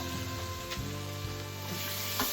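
Peppers fry in a pan alongside chili, parsley, white pepper and roast garlic, giving a steady sizzle under a low sustained hum, with no talk.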